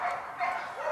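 Dog at a canicross race event giving a quick run of high, yappy barks, three close bursts within a second, fairly loud against a busy outdoor background.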